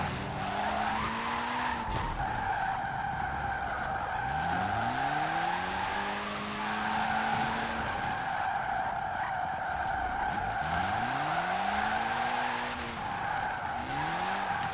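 Car drifting in the Forza Horizon 4 racing game, with a loud engine revving in repeated rising sweeps and tires squealing continuously as the car slides sideways, a steady high whine running throughout.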